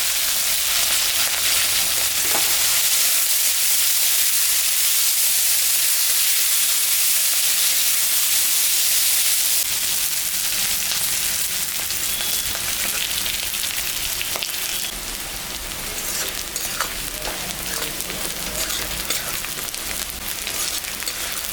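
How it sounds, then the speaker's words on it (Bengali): Chopped ginger, green chillies and onion frying in hot oil for fish curry, a loud, dense, continuous hiss and sizzle close by throughout, with no talking. "কাঁচা লঙ্কা, পেঁয়াজ সব ভাজা হয়ে গেছে।"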